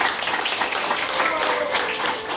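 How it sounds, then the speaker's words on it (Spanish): Audience applause at a church play during a Feast of Weeks and harvest celebration, steady dense clapping from a crowd filling the whole moment with no pause. "Aplausos, hermanos, por favor."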